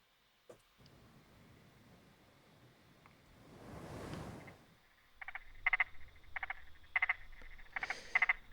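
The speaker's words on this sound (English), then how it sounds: "we might want to hear the frogs very faintly" Frogs croaking in a pond, starting faint and soon louder, with a burst of rustling noise partway through followed by a run of short repeated croaks at a steady, fairly close rhythm.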